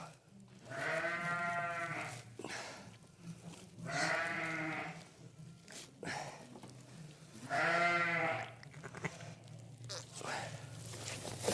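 Hill ewes during lambing on an Irish farm, giving three loud, drawn-out bleats spaced a few seconds apart, close by, with quieter shuffling and farm background between calls.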